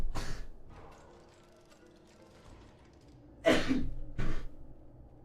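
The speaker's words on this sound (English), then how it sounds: "I gotta sneeze." A single sharp sneeze bursts out of a quiet stretch during an Ashes of Creation early-access dungeon stream, followed by a shorter second exhale, loud and close to the microphone.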